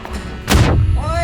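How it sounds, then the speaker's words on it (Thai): One loud, sudden blast bursts out and fades into a rolling rumble, a grenade going off in PUBG. "โอ้ยมีคนปาระเบิด"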